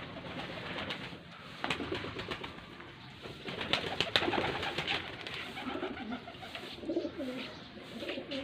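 A pigeon newly released for the first time in Faisalabad coos softly in repeated low phrases over steady outdoor background noise, with no talking.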